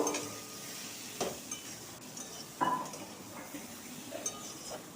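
Kashmiri chilli powder with coriander and cumin paste sautés quietly in a pan for a pumpkin and potato curry, a soft low sizzle under a few sharp clinks and scrapes of a spoon against metal.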